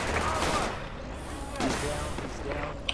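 Sustained bursts of rifle and machine-gun fire in the Project Reality military shooter, dense overlapping shots at mid distance filling the whole stretch with a rumbling, crackling barrage.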